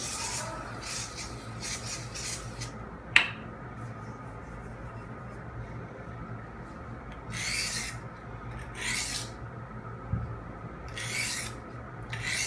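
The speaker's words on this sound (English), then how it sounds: "something this India stone is going to do well is give you a very nice scratch pattern on your edge" A blade edge honed on the fine side of an oiled India stone, with intermittent raspy scraping strokes separated by quiet pauses and one sharp tap, close and fairly soft.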